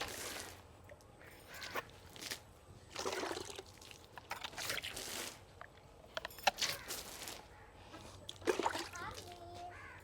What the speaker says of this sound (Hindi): ये मैं पानी का छटा लगा रही हूँ